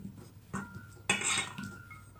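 Bananas dropped into flour batter in a bowl, heard as a few soft thuds and clinks of utensils against the bowl, with one louder scraping clatter in the middle.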